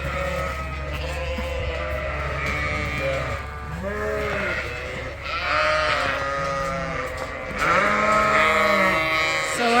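Sheep bleat continuously in a crowded pen on a farm raising bottle lambs, several animals calling over one another in overlapping, wavering cries that grow louder toward the end, with a steady low hum underneath.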